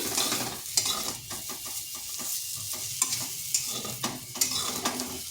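Soybean chunks frying in a pan for a vegetarian potato and pointed gourd curry, stirred steadily; continuous close sizzle with rapid repeated scraping of the utensil against the pan, no voices.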